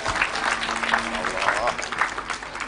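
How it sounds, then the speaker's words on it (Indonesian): An audience at an Islamic pengajian sermon applauds in a steady, dense burst of clapping, with a speaker's voice talking over it. "Tepuk tangan tuh Bu Sumiati."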